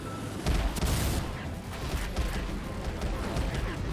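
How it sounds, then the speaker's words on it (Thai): Rapid shotgun blasts sound in XSHOT, a loud cluster of booming shots near the start followed by quieter mechanical clatter and ambient game noise. "อันนี้เราก็กดยิงรัวๆนะครับ"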